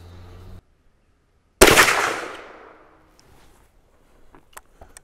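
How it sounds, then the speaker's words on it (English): A CVA Hunter .44 Magnum rifle fires a single loud, close shot that booms and rings out in a fading echo, followed by a few faint clicks and handling noises. "I'm gonna go ahead and take three shot group here."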